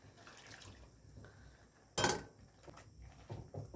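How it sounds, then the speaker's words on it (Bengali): Water is poured into a pot of sautéed peas and potatoes, with a brief splashy gush near the middle over a quiet kitchen background, followed by a few small clinks. "এরপর আমি জল দিয়ে দেবো"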